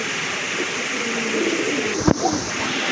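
Pigeons coo softly in low, throaty murmurs against a steady background hum, with one sharp knock or clatter breaking in briefly near the end.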